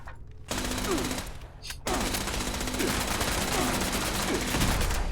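Sustained automatic gunfire fills a Fallout 76 firefight against a turret, loud and continuous with a brief gap, rapid shots blurring into a dense roar.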